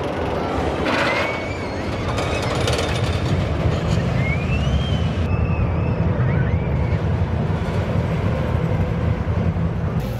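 The Road Runner mine train roller coaster runs at Six Flags Fiesta Texas, a continuous rumble of the train with wheel squeals and whistling rail tones over the whole stretch, fairly loud and nearby, with no clear speech.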